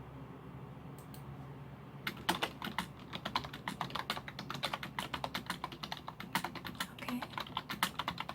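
Close, quick typing on a computer keyboard during a soft-spoken ASMR job interview roleplay, with crisp clattering keystrokes in uneven bursts after a brief quiet opening and one short spoken word.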